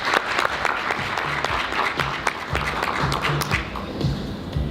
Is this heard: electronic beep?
no